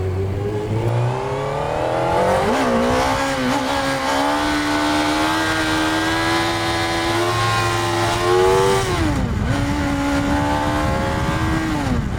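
A 2018-2022 Honda CB1000R motorcycle accelerates hard in first gear for a wheelie, its loud, close engine note climbing steadily in pitch, dipping briefly, then rising again.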